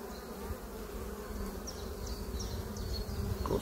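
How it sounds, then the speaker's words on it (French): Honeybees hum densely inside an open beehive during colony splitting, a steady close, loud buzz with individual bees whining past now and then. "On est en plein cœur de la ruche."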